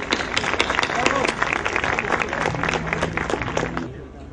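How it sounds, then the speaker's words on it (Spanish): An audience applauds to welcome a speaker at a university economics faculty event, dense steady clapping filling the room for about four seconds before fading out at the end. "recibamos con un cálido aplauso"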